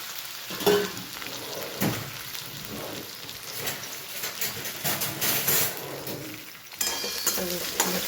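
Potato slices and green chilies fry with popping mustard seeds in hot oil, a steady close sizzle with occasional stirring scrapes and clatter, no voices.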